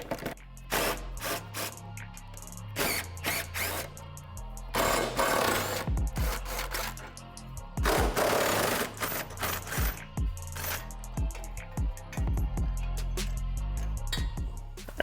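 Bolts on the subframe of a 2015-2023 Ford Mustang are worked loose with a power tool during a lowering-spring install, giving dense, loud bursts of clattering impact noise that stop and restart in uneven spurts.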